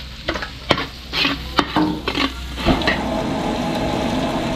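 Garlic is sautéed in a pan for pork menudo, with sharp clinks and scrapes of stirring over a steady close sizzle of frying that grows fuller once the stirring stops; no talking.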